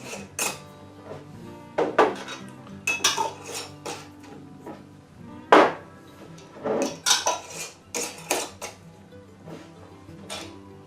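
Plastic lids pressed and snapped onto small containers holding wood-aged samples, a series of sharp clattering knocks and clicks at irregular intervals, close and fairly loud, with quieter handling noises between them.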